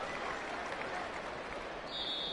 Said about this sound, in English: And the home crowd applauding.